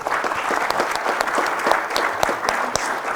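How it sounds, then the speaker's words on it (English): Sustained applause from an audience at a sheriff's office cadet graduation ceremony, a dense steady clatter of many hands clapping throughout, fairly loud and continuous. "The applause keep cutting me off."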